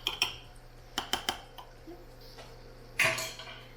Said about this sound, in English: I'm just gonna stir that.